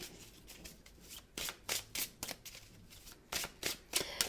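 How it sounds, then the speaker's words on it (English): Tarot cards shuffled by hand during a two-card reading, a run of soft riffling bursts and flicks that come in uneven pulses, close up and fairly quiet with no talking. "So while I'm shuffling, I'm waiting for a card to come out."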